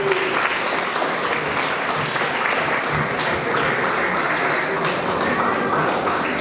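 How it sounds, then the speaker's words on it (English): Guests at a wedding celebration give a round of applause, a steady, dense wash of clapping that stays even and fairly loud from start to finish. "A round of applause for Aman."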